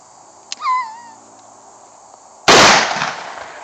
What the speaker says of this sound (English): He's gonna be shooting at that plate.